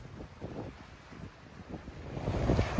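Wind and waves on a sailboat running down the Pacific Ocean at about 8 knots in roughly 20 knots of wind, with low gusting wind rumble against the microphone and a steady rushing wash of water that swells toward the end.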